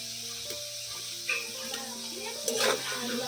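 Potatoes frying in oil with a pinch of salt and turmeric for a vegetarian banana-flower curry, a soft sizzle with a few light stirring clicks, quiet and close.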